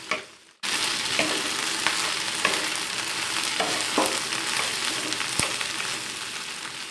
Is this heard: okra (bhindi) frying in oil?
yes